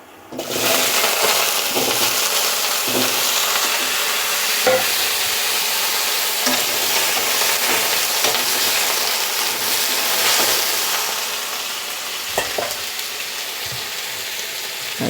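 Potatoes fry in hot mustard oil in a heated kadai, a loud continuous sizzle close by with scraping stir strokes and bursts of crackle that ease slightly toward the end.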